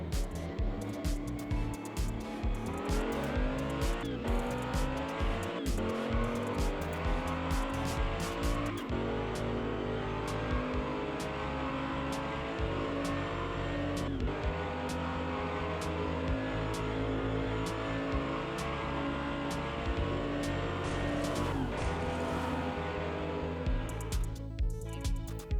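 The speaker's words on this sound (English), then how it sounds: "They're gonna drag race to that open track at the end." Hot Wheels toy cars, an Audi and a Zonda, drag racing down a track, with a continuous buzzing motorized whir and rhythmic clicking throughout, steady and fairly quiet.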